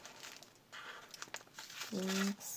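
Paper surprise packets crinkle and rustle as they are handled and unwrapped, with scattered crackly crumpling bursts close up, and a voice speaks over the last part.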